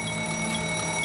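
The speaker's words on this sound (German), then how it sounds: "Kurz vor der Einfahrt in den Bahnhof Itami ertönt in der Fahrerkabine ein Alarm." A warning alarm sounds steadily in a train driver's cab just before the train enters Itami station during the Amagasaki rail disaster, a continuous ringing tone with bright sustained harmonics over low cab rumble, loud and close throughout.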